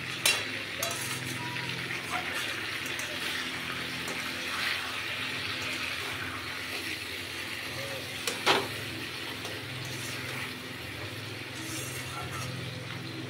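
A fish head sautéing in a pan with a little water, a soft steady bubbling sizzle with occasional stirring clinks, fairly faint and close.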